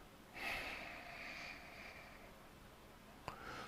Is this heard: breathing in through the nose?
yes